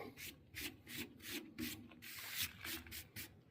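A short test patch of painted truck bed is hand-sanded with 120-grit paper, giving close, rhythmic back-and-forth rasping strokes, about a dozen quick passes, quiet and steady with no talking.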